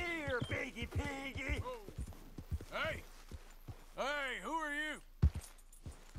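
A horse clip-clops along in Red Dead Redemption 2, a western video game: faint, regular hoof clicks patter beneath someone talking over them.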